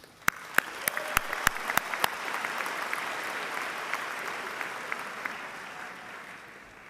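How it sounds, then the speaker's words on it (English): Graduation audience applauding the band and choir at a high school commencement, opening with a few sharp, distinct claps before swelling into steady, sustained clapping from a large crowd that holds level to the end. "I would be remiss if I didn't give a round of applause to the band, the choir,"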